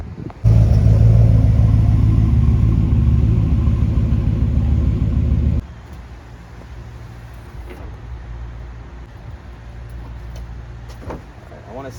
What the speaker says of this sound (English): let's go ahead and move the truck up here.